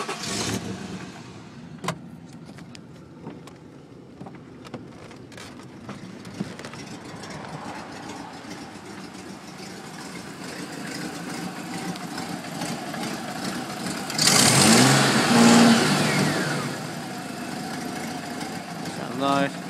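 A 1993 Ford Ranger XLT with a new water pump, serpentine belt and an exhaust leak starts up and idles steadily, then revs briefly and loudly before settling back, with someone speaking over the engine.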